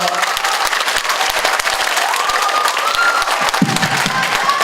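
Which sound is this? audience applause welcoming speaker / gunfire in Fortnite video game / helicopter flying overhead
audience applause welcoming speaker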